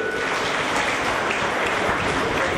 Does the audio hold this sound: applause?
yes